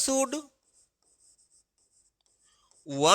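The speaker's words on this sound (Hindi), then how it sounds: "इसके लिए आप सिंपली लिखेंगे" Marker or chalk writing on a board during an English grammar lesson, heard as faint, quick, scratchy strokes between stretches of someone talking at the start and end.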